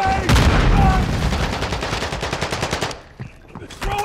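Rapid automatic gunfire in Call of Duty Warzone, a dense loud burst of shots that thins into a rattling string before stopping, with a few scattered shots after.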